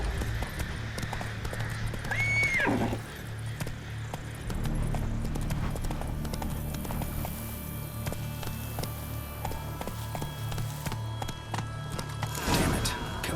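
Roach the horse gallops in The Witcher 3, with steady rhythmic hoofbeats under ambient game sound, a brief whinny early on and another horse cry near the end.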